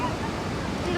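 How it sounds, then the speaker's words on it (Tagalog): Strong ocean waves surge and wash along a beach in a steady, loud roar of surf with wind buffeting, filling the whole short moment. "Lakas ng alon."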